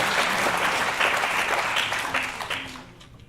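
Audience applause at a keynote address at a livability summit, a dense wash of many hands clapping that fades out toward the end.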